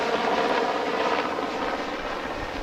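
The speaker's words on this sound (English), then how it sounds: "So you don't make fun of the sound of the helicopters." Military Navy helicopters flying overhead at a beach produce a loud, continuous rotor and engine roar that fills the whole stretch without a break.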